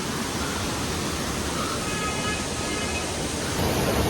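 Waterfall near Rishikesh pouring steadily, a dense, unbroken rushing roar heard fairly close with no pauses or other sounds over it.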